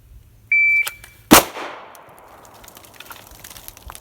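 A red dot pistol fired on a shot timer at a range: a short electronic start beep, then a single sharp, loud gunshot that rings out and decays over a couple of seconds.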